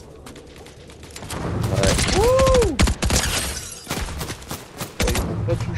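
Gunfire bursts from a Fortnite match, loud sharp cracks scattered through the clip alongside a rising whistling sweep, with a player's voice briefly speaking over the action.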